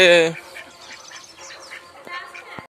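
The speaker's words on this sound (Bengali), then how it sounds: "দেখো হাঁসগুলো কিরকম ঘুরে বেড়াচ্ছে করে।" A brief loud quack at the start, then softer scattered duck calls and faint background chatter.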